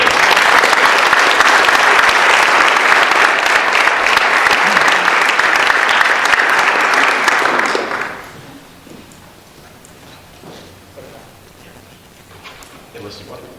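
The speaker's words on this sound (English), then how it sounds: "we owe you a round of applause before you begin" A community forum audience gives a sustained, dense round of applause for about eight seconds, then it drops off abruptly to a quiet room with faint scattered sounds.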